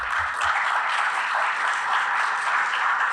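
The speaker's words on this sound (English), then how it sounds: "I thought that was worthy of applause also" Steady crowd applause at an event at Montclair State University fills the whole stretch, a dense, even wash of clapping with no voices standing out.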